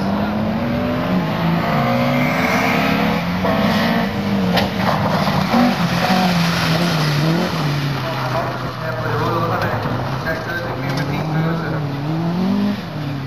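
A Suzuki rally car racing through a rallysprint stage, its engine revving and shifting up and down with loud, continuous drive, under a commentator talking.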